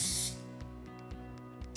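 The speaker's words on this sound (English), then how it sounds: "we're going to spray it with just a little bit of cooking spray." A brief burst of cooking spray hits a sheet of aluminum foil at the start, a short close hiss that quickly fades into quiet room tone with faint mechanical clicks.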